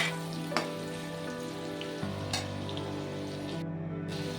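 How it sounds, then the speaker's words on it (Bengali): Potatoes fry in oil in a pan with a steady crackling sizzle, broken by a few scraping stirs of a spatula; close and continuous, no talking. "নাড়িয়ে নিচ্ছি।"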